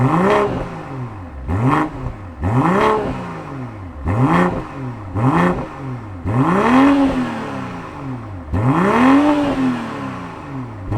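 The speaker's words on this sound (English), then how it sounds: "let's fire up this inline-6 turbocharged engine and hear what it sounds like" A 2021 BMW M440i's turbocharged inline six-cylinder engine barks into life, then revs sharply several times in repeated rising and falling bursts, loud and close with no voices.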